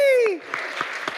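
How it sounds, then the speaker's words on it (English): Short burst of audience applause for the team at a food access event in Arkansas, rising after a voice fades out, with scattered distinct claps over a brief stretch. "Can you guys give them a round of applause?"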